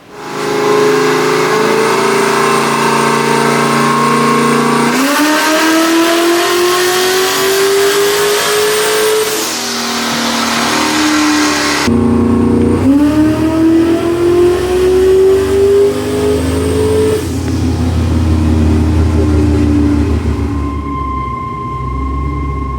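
An LS V8 with reversed intake and exhaust revs hard under boost on a dyno, a loud sustained engine roar climbing in pitch through two long pulls with a brief drop between them.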